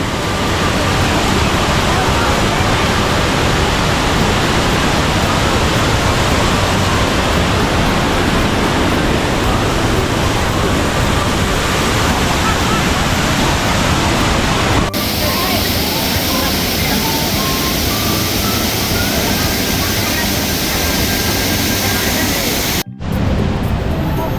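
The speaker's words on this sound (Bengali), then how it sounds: "ঝর্ণা এই রূপে না দেখলে আসলে ঝর্ণা দেখে শান্তি নাই ঝর্ণাকে এই রূপেই দেখতে হবে" Roaring waterfall in Meghalaya during the monsoon, a loud continuous broadband rush of heavy falling water, close and unbroken, with faint voices and a brief cut near the end.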